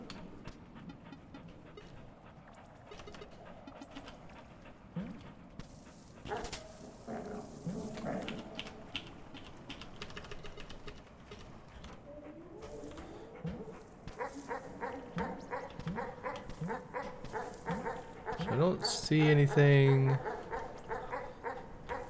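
Dogs in the video game Animal Well bark and whimper in short yips, scattered at first and then in quicker bursts toward the end, mixed with game sounds while a player talks over them.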